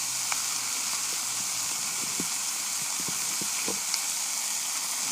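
Bacon-wrapped venison backstrap with apple fries in a pan, a steady close hiss and crackle with scattered small pops running throughout, no voices over it.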